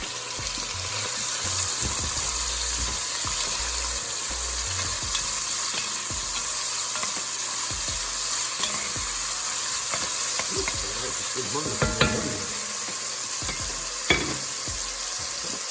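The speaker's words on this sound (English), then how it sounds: "We're gonna fry up the prosciutto first." Steady, dense sizzling of prosciutto and mushrooms frying in a pan, with occasional scrapes and clinks of a utensil stirring, close and fairly loud with no talking.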